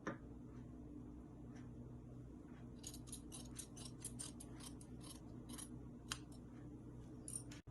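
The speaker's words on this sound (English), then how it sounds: "And I'll go ahead and cut the slits." Scissors cutting slits in fabric for a blouse back, a faint run of quick crisp snips clustered in the latter half, very quiet and close with no voices.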